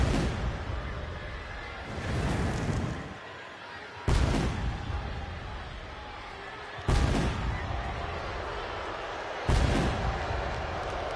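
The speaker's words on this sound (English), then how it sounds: "All that does is just fireworks." Fireworks bursts in the WWE 2K26 wrestling video game, four loud booming blasts spaced a few seconds apart, each a sharp onset followed by a rumbling, crackling tail over steady background noise.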